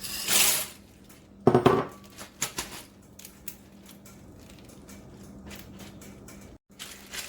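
Dry pasta rattles and clatters as it is poured and then shaken inside a sealed container, sharp bursts of hard pieces tumbling followed by lighter scattered rattles and brief pauses.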